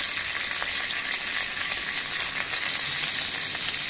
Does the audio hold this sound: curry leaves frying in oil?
yes